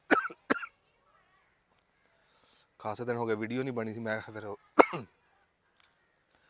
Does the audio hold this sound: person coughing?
yes